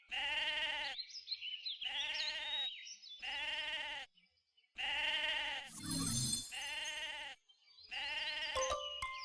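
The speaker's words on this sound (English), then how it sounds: "shearing sheep is so easy, I might as well just put in the effort" Repeated sheep bleats while shearing sheep in the video game Mabinogi, a steady series, clear and close, with brief electronic chimes and game sound effects between them; no talking.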